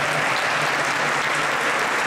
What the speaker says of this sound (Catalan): demano un fort aplaudiment per l'orquestra i pel petit cor.